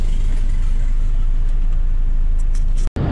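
A bus idles at a roadside rest stop with a low, steady engine rumble and some passing-traffic texture, loud and close, ending in an abrupt cutoff; faint voices are mixed in.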